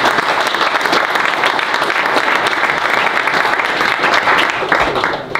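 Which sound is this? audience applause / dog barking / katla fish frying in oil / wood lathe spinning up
audience applause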